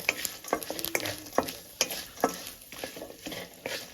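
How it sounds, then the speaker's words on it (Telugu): Curry leaves frying in hot oil are stirred in a pan, a faint sizzle broken by repeated scraping taps of the spoon at an irregular rhythm. "కరేపాకు కూడా వేసుకుంటున్నామండి ఇప్పుడు బాగా కలుపుకుందామండి"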